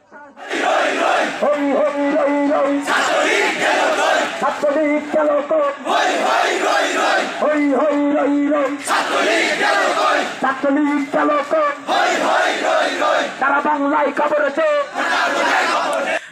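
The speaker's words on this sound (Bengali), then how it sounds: "ছাত্রলীগের বিরুদ্ধে নানান স্লোগান দিতে থাকেন আন্দোলনরত শিক্ষার্থীরা" Students at Rajshahi University march in protest against the Chhatra League, chanting slogans as a loud crowd in rhythmic call-and-response bursts, with short pauses between the shouted phrases.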